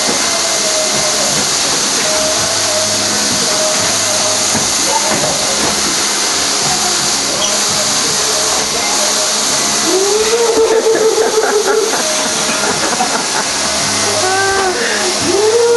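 A household vacuum cleaner running steadily, a loud, constant hissing whoosh of airflow throughout, with brief shifts in pitch as the nozzle moves and a voice and an adult talking faintly in the background.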